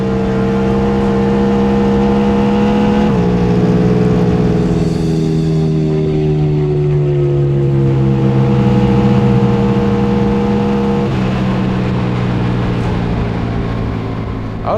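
A powerful bagger motorcycle engine roars steadily at high speed on the Bonneville salt flats, its pitch dipping and climbing through gear changes, loud and close throughout.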